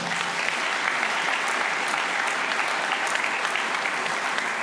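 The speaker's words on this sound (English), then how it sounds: "Let's give them a big round of applause." A conference audience applauds a panel of politicians at a New Zealand horticulture conference, a continuous, even roar of many hands clapping that stays level from start to finish with no voices standing out.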